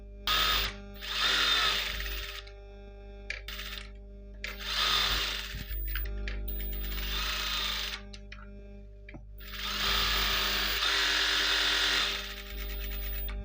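A sewing machine stitches blouse fabric for a 36-size backless blouse. Its motor whirs close by in four separate bursts with pauses in between, over a low steady hum.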